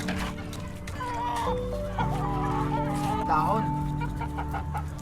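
Chickens cluck busily and steadily nearby while feeding, a dense flock sound with a person speaking briefly over it.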